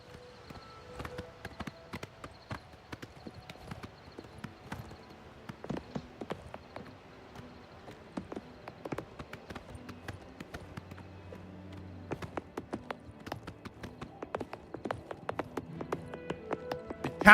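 Horse hooves galloping in the video game Oblivion: rapid, rhythmic clip-clop beats, faint at first and then growing louder and busier, with no talk over them.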